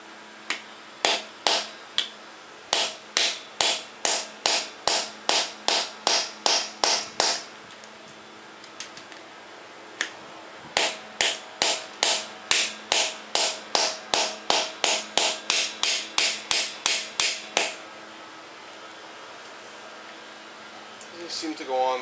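Hammer blows drive a cheap 7/16 spline socket onto a car wheel lock, two long runs of sharp, evenly spaced metallic strikes close up, separated by a short pause.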